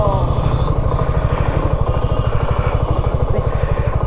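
A large motorcycle engine, a Suzuki V-Strom, runs close by with a steady, rapid thumping pulse, loud and continuous throughout.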